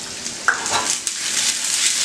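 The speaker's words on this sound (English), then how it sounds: "the zucchini's starting to saute. So the minute it starts to sizzle" Zucchini sizzles steadily in a hot pan, with a couple of sharp clinks as a utensil stirs it, close and fairly loud.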